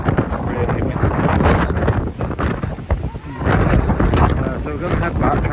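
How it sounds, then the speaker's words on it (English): Strong wind roars and buffets the microphone outdoors in loud, uneven gusts that swell and dip for several seconds, with no clear talk. "Really windy."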